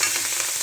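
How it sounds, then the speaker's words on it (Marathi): Curry leaves dropped into hot oil for a Marathi brinjal rassa bhaji give a steady, close, bright frying hiss throughout, with no pauses or talk. "कढीपत्ता एकदम तेलात टाकला का नाही खूप ते होतं, तेल सगळीकडे ओढतं."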